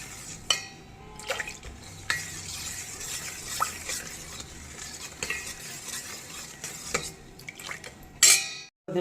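A spoon scrapes and stirs melted jaggery with wheat flour in a metal pot, with steady rough scraping and a few sharp clinks against the rim, close and moderately loud with no voices.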